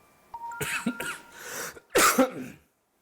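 A man with a lung condition gives a series of dry, short coughs and throat clears, close and distinct, in two clustered bursts separated by brief pauses.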